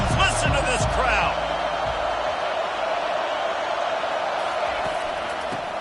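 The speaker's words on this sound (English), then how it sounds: "Listen to this crowd." A loud stadium crowd in an American football video game roars steadily, with a sustained wash of cheering that stays constant and fills the whole scene.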